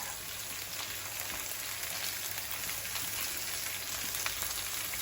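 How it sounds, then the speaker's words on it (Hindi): Leftover masala frying in oil for stuffed karela, bitter gourd, giving a steady, even sizzle like light rain that runs throughout at a moderate level with a few brief crackles and no voices. "ये जो थोड़ा मसाला बचा है उसमें फ्राई करके हम ऐसे डाल देंगे ऊपर ऊपर"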